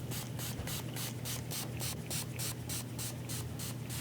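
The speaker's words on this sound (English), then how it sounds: "I do a very fine mist so you don't blow your ballast away." A fine mist of alcohol is sprayed onto model railroad ballast in a steady run of short, evenly spaced pump-spray hisses, close and fairly loud, with no talking.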